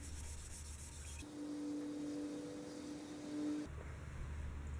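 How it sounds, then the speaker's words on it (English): A heavy-duty abrasive pad, similar to a coarse Scotch-Brite, scrubs old paint on a Wheel Horse Model 401 garden tractor part, giving a steady, continuous rubbing hiss over a low mechanical hum. "This is an abrasive pad, kind of like a heavy-duty Scotch-Brite."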